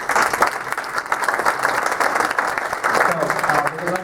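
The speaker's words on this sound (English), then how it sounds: "let's give a round of applause for them" At a sustainable business council meeting, a room of attendees gives a loud, continuous round of applause with dense, crackling claps, while voices carry over and through it.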